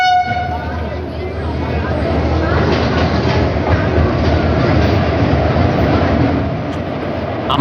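A train at Bhubaneswar railway platform rumbles loudly and steadily, with horn-like tones at the start, rolling wheel clatter throughout and voices mixed into the din.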